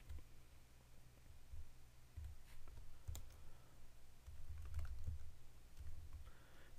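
Soft, irregular clicking of keys on a computer keyboard in bursts, quiet and close, with no talking.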